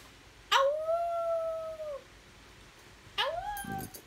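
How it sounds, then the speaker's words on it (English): Two drawn-out dog howls, the first long and steady, the second shorter, rising then fading, in a quiet room. "that's the laziest howl I've ever heard"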